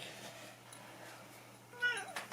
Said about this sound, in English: Sorry, the cat.